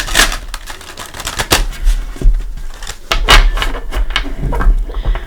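Rapid riffling and slapping of tarot cards being shuffled up close, a dense run of crisp flutters and taps repeating several times.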